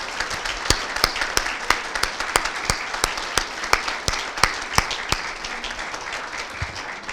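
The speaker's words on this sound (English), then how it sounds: "I think you deserve a round of applause too" An audience claps in a round of applause, sharp individual hand claps standing out over a steady patter, moderately loud and continuous, with no voices on top.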